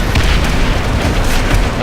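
Grenade blast in Call of Duty: World at War, a loud, sustained low rumbling boom with debris-like crackle filling the moment, heard without speech.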